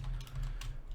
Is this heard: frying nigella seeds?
no